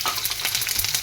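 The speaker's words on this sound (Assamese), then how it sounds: "পিঁয়াজখিনি ভাজিব।" Onions sizzling in hot oil in a pan while a vegetable curry is cooked, a steady close frying crackle and hiss throughout the short stretch with no talk.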